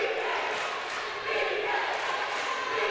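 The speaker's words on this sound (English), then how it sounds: "the Pelham crowd yelling defense in the Thomasville's own home court" A high school basketball crowd in a gym, Pelham fans on Thomasville's home court, keeps up a steady, loud roar of chanting and yelling that is sustained and crowd-wide.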